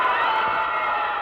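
Baseball crowd roaring and cheering at a ninth-inning bases-loaded moment in a Cheerios cereal commercial, a dense, steady wash of voices held at full strength for the whole stretch.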